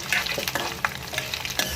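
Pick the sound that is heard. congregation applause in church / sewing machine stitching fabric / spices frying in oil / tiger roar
spices frying in oil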